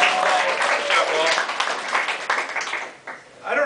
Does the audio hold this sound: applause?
yes